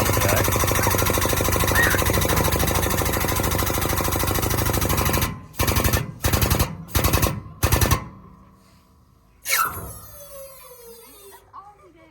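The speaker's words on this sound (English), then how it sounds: "That's an air jack. This is a air over hydraulic bottom jack." An air-over-hydraulic bottle jack runs with a loud, continuous pneumatic rattle for several seconds, then pumps in a series of short, sharp bursts, followed by a hiss of air and a quieter tail.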